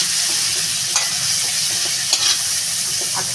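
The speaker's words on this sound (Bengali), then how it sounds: "চিংড়ি মাছটা বন্ধুরা আমার ভাজা হয়ে গেছে।" Prawns fry in a pan for a bottle-gourd dish, giving a continuous close sizzle of oil. Occasional sharp ticks and scrapes of stirring are heard, with no talking.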